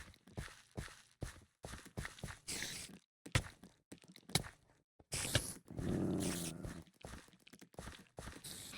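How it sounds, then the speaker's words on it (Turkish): A dog or wolf in Minecraft makes a string of short, sharp game sound effects, separate bursts with brief gaps, fairly close and clear. "Sen bunu öldürsene köpek."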